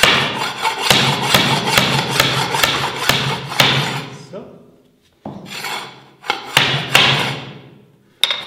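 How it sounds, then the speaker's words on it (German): Sharp, rapid hammer blows drive nails into a wooden skirting board, a steady run of loud close knocks, then a short pause and a few more strikes. "wenn wir mit dem Hammer ausholen"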